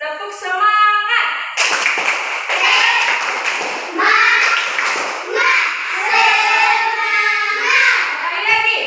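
An elementary school class does a rhythmic spirit clap (tepuk semangat), with bursts of patterned group clapping mixed with children's chanting voices, repeating in sections close to the microphone.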